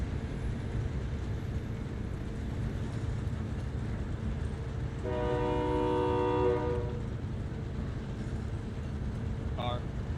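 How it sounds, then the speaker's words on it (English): A passing train in the Call of Duty video game sounds a harmonic horn blast for about two seconds midway, over a steady low rumble of rolling wheels and game ambience. "Like the train, like somehow ran me over."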